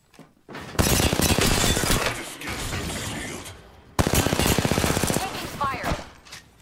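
Automatic gunfire in the battle royale game Apex Legends, fired in two loud, rapid bursts with a short pause between and mechanical rattles around them.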